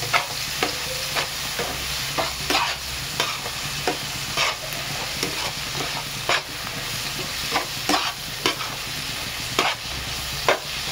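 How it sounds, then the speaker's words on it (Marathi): Hot oil sizzles in a pan before cabbage fried rice goes in, a steady close hiss with scattered sharp clicks of a utensil against the pan. "तेल गरम झालेलं आहे."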